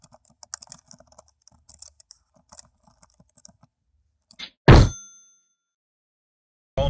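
Rapid irregular clacking of keys on an old manual typewriter, light taps in quick bursts, then a loud heavy thunk like the carriage return and a final knock.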